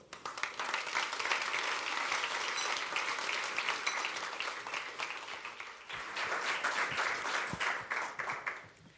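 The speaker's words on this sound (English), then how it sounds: "Ms. Maja Pakolaj, with the warm applause." Steady applause from a large audience, dense clapping that swells, dips briefly, then continues before tapering off.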